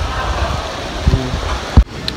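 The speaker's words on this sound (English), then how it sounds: "This is the first time in a long time it's been raining during lunch." Steady rain falls during a school lunch break, a continuous wash of patter with a few louder knocks and thumps near the end and faint background voices.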